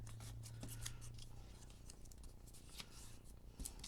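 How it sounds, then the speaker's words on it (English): Scissors snipping paper for a Christmas countdown craft, a series of quiet crisp cuts close by over a low background hum, with no talking. "And I'm going to snip."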